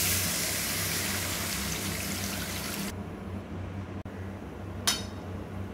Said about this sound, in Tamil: இப்போ வந்து புளி தண்ணியை ஊற்றிட்டுலாம்.